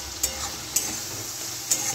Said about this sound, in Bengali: মশলাটা একটু কষে নিলাম।